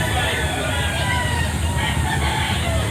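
Roosters crow and hens cluck amid crowd babble at a busy chicken market in Lipa, Batangas, the birds fairly close over a steady dense background of voices and noise.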